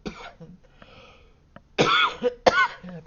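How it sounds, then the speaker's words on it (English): Two loud, harsh coughs close to the microphone, following quieter breathy throat sounds, each cough a short explosive burst in quick succession. "Perfect time for a cough, right?"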